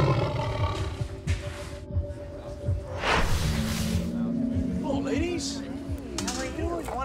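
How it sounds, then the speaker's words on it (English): A 600-pound Siberian tiger loose at a zoo roars loudly and repeatedly, deep rumbling bursts mixed with snarls and rustling. "Jan Gold is face to face with Taiga, a 600-pound Siberian tiger on the loose"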